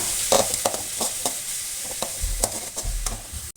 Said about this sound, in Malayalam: ഇഞ്ചിയുടെയും വെളുത്തുള്ളിയുടെയും പച്ചമണം മാറുന്നത് വരെ ഒന്ന് ചെറുതായി ഇളക്കി കൊടുക്കാം